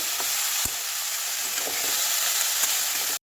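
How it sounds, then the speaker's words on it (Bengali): Shredded cabbage stir-fried in a pan with little oil, a continuous close sizzle with a few scraping stirs of the spatula, alone and without talk, ending abruptly. "আবার বাকি বাঁধাকপিটাও তুলে দেব এরপর আবারও ভালো করে মেরে চেড়ে নেব"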